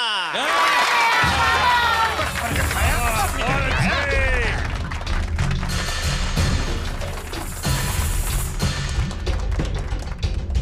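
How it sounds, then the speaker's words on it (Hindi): A crowd cheers and applauds at a stage show where a martial arts performer breaks a block of ice, with a musical flourish at the start, shouting voices, and thumps mixed into the loud, continuous noise. "तालियां।"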